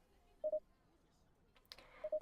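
A cute new telephone's keypad gives two short pairs of dialing beeps, one early and one late, with a brief rustle in between and no talk.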